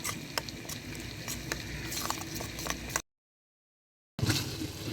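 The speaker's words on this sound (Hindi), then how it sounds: "दही में ऐड कर देंगे, अच्छी तरह से मिक्स करेंगे।" Spices stirred into yogurt in a home kitchen, a close, soft patter of a spoon scraping and clicking against the bowl, broken by a short gap of silence before the mixing resumes.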